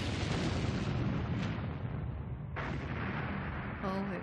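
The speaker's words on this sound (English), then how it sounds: "Oh, it was a terrific explosion, a terrific one." A torpedo explosion strikes the ocean liner Lusitania, a deep, heavy rumbling blast that rolls on continuously, followed by a sharp secondary burst and lingering roar, fairly muffled and distant in character.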